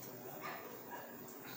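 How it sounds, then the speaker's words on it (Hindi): Street dogs barking at night, around one in the morning, come through faint and distant as a few soft yips against a hissy outdoor background. "भौंक रहे हैं, अभी उनकी भी आवाज़ आपके सामने रिकॉर्ड हो रहा होगा कैमरा में"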